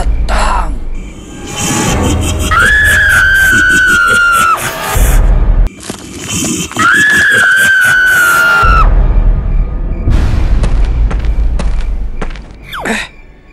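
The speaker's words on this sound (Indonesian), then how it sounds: "sepertinya ada suara yang berteriak" Two long, shrill cartoon screams ring out in a spooky ghost-story animation about a pocong ghost knocking at a door, each held for a couple of seconds, loud and close, with a short gap between them and thumping noises after.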